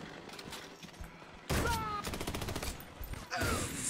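Gunfire strikes the player in the co-op shooter Army of Two: The Devil's Cartel, with a sudden loud burst of rapid shots and impacts that resumes after a brief lull, then another burst near the end. A voice talks over it.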